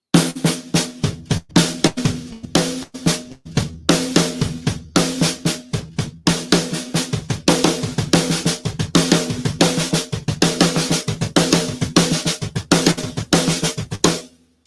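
A drum kit plays a fast, steady double bass drum pattern of rapid kick hits with cymbals washing over the top, continuing loudly without pause.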